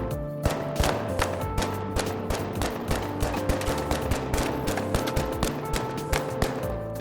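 Rapid bursts of automatic gunfire crackle continuously in the video game The Finals, with shots hitting goo grenade foam, dense and fairly close with no voices.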